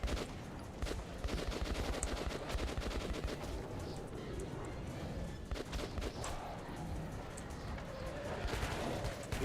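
Sustained gunfire from allied soldiers in the game Metro 2033 Redux rattles on without pause, dense bursts and single shots layered over a continuous din, with a few sharper cracks standing out.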